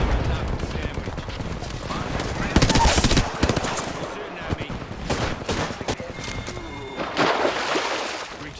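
Gunfire in an Apex Legends ranked match: sustained automatic bursts and heavy fusillades cluster around the middle and the end, with explosive cracks layered over a busy battle din.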